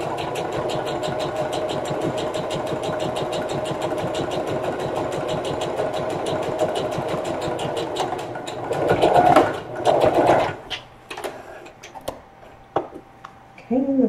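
A sewing machine runs in a steady, rapid stitching burst while back stitching a lunch tote, then stops and gives way to a few quieter handling clicks and rustles.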